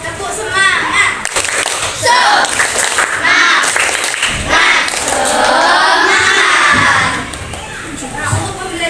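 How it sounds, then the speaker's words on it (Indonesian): Fifth-grade schoolchildren in an Indonesian classroom do a rhythmic spirit clap, loud bursts of clapping mixed with their excited chanting and shouting voices throughout. "mari kita tepuk semangat dahulu ya"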